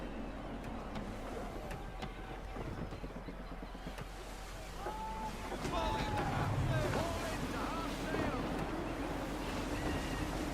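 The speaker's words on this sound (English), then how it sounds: "Gusty winds can be difficult to manage." Gusty wind sweeps over a sailing ship at sea in Assassin's Creed III, a steady roar of wind and water that swells louder partway through, with faint game tones in the background.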